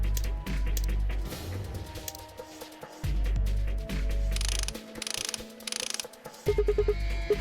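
A green bolt being unscrewed in the puzzle video game Escapey, heard as repeated ratcheting mechanical turns in bursts over a low droning background, with pauses between.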